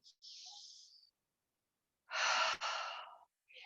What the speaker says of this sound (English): Now with the breath, we go inhale, lift up, and exhale, like we're releasing.